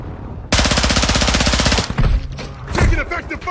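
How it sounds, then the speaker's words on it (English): Rapid automatic gunfire bursts loudly in a first-person shooter video game during a hostile precision airstrike, then fades into scattered shots and a brief voice. "Hostile precision airstrike."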